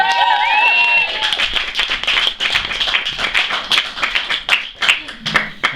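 Audience clapping and cheering at a speed poetry challenge event, sustained and fairly loud, with sharp claps and a few whistle-like tones at first, thinning slightly over several seconds.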